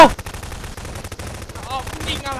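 Gunfire in the video game Garry's Mod Prop Hunt, a run of sharp, rapid shots in uneven bursts, loud and close, with a short voice heard near the end.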